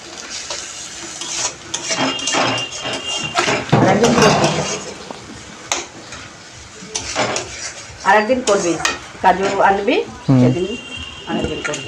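Pulao rice with soaked raisins is stirred and fried in a pan, with scraping, clinking metal utensils and pan clatter under near, steady conversation between two women.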